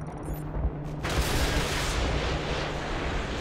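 Gunfire in the Modern Warfare 2 video game erupts as a dense, sustained roar of heavy shots and blasts, loud and continuous after a brief quieter start.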